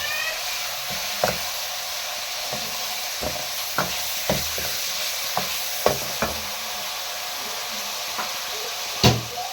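Chicken fries in ghee in a karahi with a steady bright sizzle, broken up by sharp scraping clinks of a spoon stirring the pan at irregular intervals.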